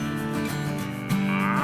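An Indian buffalo lets out a close, loud moo that rises into a sustained, tonal low call near the end, with no talking.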